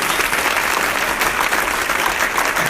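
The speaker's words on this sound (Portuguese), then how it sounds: "Palmas para Jesus." A church congregation applauds after a prayer, with loud, dense, continuous clapping that holds at a steady level for nearly three seconds.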